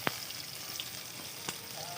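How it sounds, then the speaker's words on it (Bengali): Shal fish pieces fry in hot oil in a village kitchen, a steady soft hiss and sizzle with a few brief sharp pops, fairly quiet and alone. "এই কটাই আমার লাস্ট ভাজা।"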